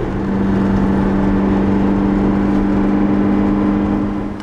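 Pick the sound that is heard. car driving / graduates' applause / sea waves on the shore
car driving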